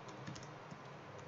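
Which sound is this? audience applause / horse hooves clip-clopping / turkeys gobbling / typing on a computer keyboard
typing on a computer keyboard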